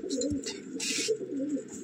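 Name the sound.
Madrasi pigeons cooing in a breeding loft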